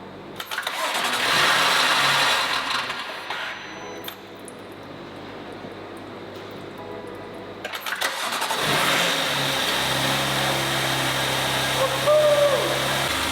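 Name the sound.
2019 BMW M2 Competition engine running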